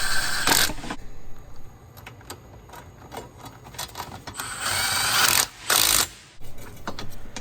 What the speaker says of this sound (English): I will start the remaining 3 bolts into the bearing using my impact